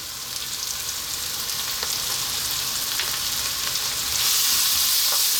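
Garlic ginger paste with chili and turmeric powders and salt frying in a pan for Indian dhal, a loud continuous sizzle that swells stronger near the end, with faint stirring scrapes and no speech.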